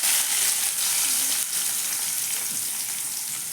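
Chopped onion and tomato sizzle and crackle in hot oil in a pan, a continuous loud hiss with fine popping and no voices.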